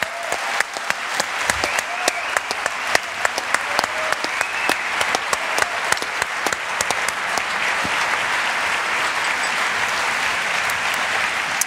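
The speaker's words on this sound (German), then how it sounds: "jetzt klatschen, einfach weil wir es brauchen" A large conference audience at a closing ceremony claps steadily and loudly, dense applause with sharp individual claps standing out throughout, no one speaking over it.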